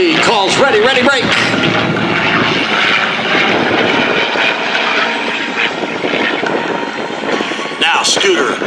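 A loud, steady roar of a P-51's Rolls-Royce Merlin piston engine droning close by at an airshow, with a voice talking over it at the start and end.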